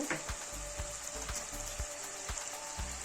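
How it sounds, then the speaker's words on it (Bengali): Ginger-garlic paste and chilli paste fry in a pan for an egg and fish curry, giving a steady, close hiss broken by regular soft taps of stirring. "আদা রসুন বাটা দেব, লঙ্কা বাটা দেব"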